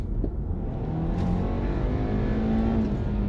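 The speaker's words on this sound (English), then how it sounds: "Let's see what the response from the engine is like" A 2020 Audi Q5 engine revs up steadily, its pitch climbing as it accelerates, loud and continuous with no talking.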